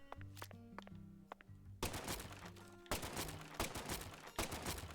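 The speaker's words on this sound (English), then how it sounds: "Just fire off a gun in the parking lot." Gunfire in Deadly Premonition 2, a string of sharp shots in a parking lot, starting as isolated cracks and building into dense, loud bursts of rapid firing.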